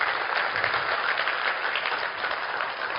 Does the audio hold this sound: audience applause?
yes